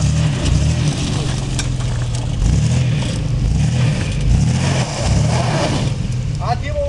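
Off-road car engine droning loudly and revving in repeated surges on the throttle, close by, with people talking over it.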